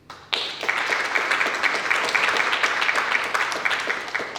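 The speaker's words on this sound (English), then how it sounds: "let's pause and applaud each of you just for being here" An audience at a Black history unity celebration breaks into applause, starting suddenly and continuing as a loud, dense stretch of many hands clapping with rapid, uneven claps and no voices over it.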